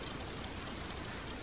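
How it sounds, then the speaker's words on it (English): Steady rain falls outside a window on a December day in Canada, a soft, even hiss with no distinct drops, faint and continuous with no voices. "It's a very rainy day today for December."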